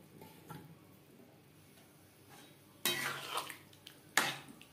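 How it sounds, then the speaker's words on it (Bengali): Spice-washed water poured into a cooking pan for a vegetarian kohlrabi curry, with two loud bursts of splashing and sizzling after quiet stirring and utensil clinks. "এখানে আমি মশলা ধোয়া জল অ্যাড করছি"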